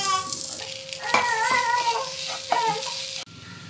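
Shredded chicken filling with pepper being stirred in a hot pan, with a steady sizzle and several distinct scraping strokes of a utensil against the metal.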